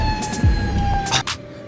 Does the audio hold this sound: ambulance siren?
yes